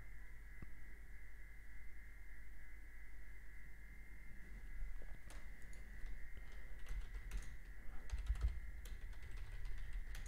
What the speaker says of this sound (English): If you do hear me typing, that's just me making alerts in the private community